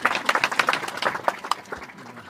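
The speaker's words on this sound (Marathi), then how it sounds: "आपण बसल्या बसल्या टाळी वाजवली तरी चालेल." A seated audience at a devotional gathering claps during a felicitation ceremony. The claps are loud, quick and uneven, then thin out and fade.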